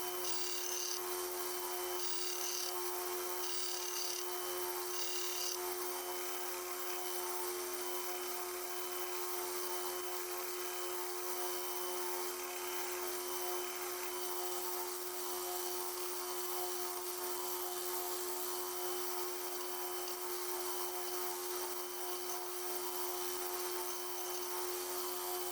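A belt grinder running a fine grit belt against a steel knife blade, a steady, even rasping hiss over a constant motor whine that holds unbroken at moderate loudness with no voices.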